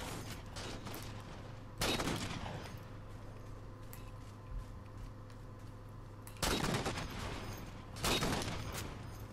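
Beam rifle fire in Halo 4 on the Ragnarok map, several sharp, heavy shots spaced seconds apart over a low game hum, with a few fainter distant cracks between them.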